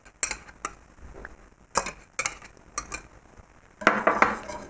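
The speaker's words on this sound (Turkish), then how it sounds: "Jöleyi de ekleyip karıştırmaya devam ediyorum." Jelly is stirred into a chocolate cake sauce in a pot: a series of sharp metal spoon clinks and scrapes against the pot, irregular and close, with a louder clattering burst at the end and no talk.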